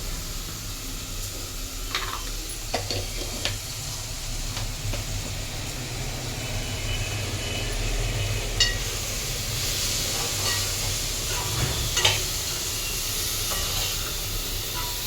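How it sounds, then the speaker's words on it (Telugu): Fish curry simmering after chili powder goes into the pot, a soft continuous sizzle and bubbling hiss with occasional faint clinks and stirring noises, fairly quiet throughout. "ఒక 3 చెంచాలు కారం వేస్తున్నాను"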